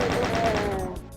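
Chaingunner machine gun fire in the video game Doom, a brief rapid burst of repeated shots at steady volume lasting about a second.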